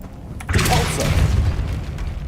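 In Hogwarts Legacy, the Repulso spell is cast, releasing a single deep, close whooshing boom that swells suddenly and then rumbles away over about two seconds.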